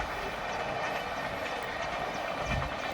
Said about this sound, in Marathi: रेल्वे बघा आमच्या गावातून कशी रेल्वे जाते आहे